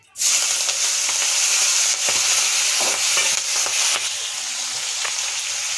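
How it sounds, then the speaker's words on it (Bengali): A sudden loud burst of hot-oil sizzling as prawns go into hot mustard oil, then continuous crackling frying that eases off slightly toward the end. "তেল গরম হয়ে গেছে, চিংড়িগুলো দিয়ে দিচ্ছি, ছেড়ে দিচ্ছি।"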